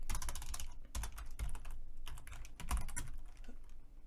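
Quick, close keystrokes clatter on a computer keyboard as a terminal command is typed on a RHEL 8 workstation, coming in rapid bursts with brief pauses and no speech.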